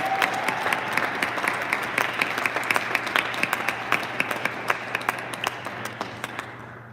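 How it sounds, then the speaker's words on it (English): Audience applause fills a school board meeting at East High School, a steady crowd of many hands clapping with sharp individual claps standing out, holding fairly loud for the whole stretch before easing off slightly at the end. "Let's give them a round of applause as well."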